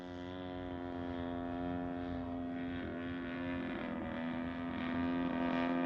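A Seagull Models giant scale balsa Zero RC plane with an EME60 gas engine drones steadily on its landing approach, a loud buzzing propeller note with a strong even pitch that wavers slightly.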